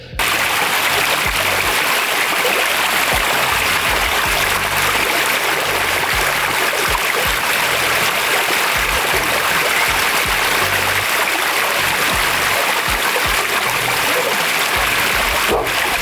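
Steady rushing of a stream and falling water, loud and close, filling the whole stretch without a break.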